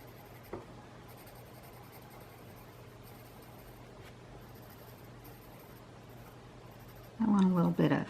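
A pen drawing an organic tangle pattern on paper, its soft, faint scratching strokes running steadily at close range over low background hum, before a voice starts talking near the end.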